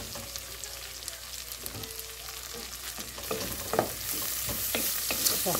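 White onion and two garlic cloves fry in a pan, a steady broadband sizzle running throughout with scattered clicks and scrapes of stirring that grow busier and a little louder in the second half.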